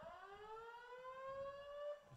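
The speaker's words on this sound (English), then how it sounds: "fire alarms are going off, or an emergency button was pulled somewhere" A rising electronic fire alarm siren wails in a single sustained sweeping tone at a college baseball stadium, clear and steady with faint crowd murmur beneath.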